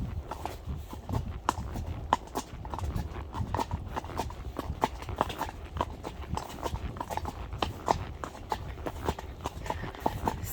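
A horse out hacking at a nature reserve clip-clops along at a steady walk, hoofbeats sharp and regular, close and clear, with faint voices in the background.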